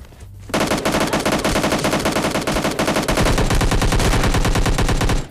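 Rapid, dense gunfire in a battle royale video game with M24 sniper rifle shots, a continuous loud hammering stream of shots lasting several seconds, with no talking.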